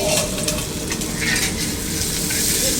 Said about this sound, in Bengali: কাঁচা পেঁয়াজ পাতলা করে কাটা, পেঁয়াজটা ফ্রাই করতে হবে।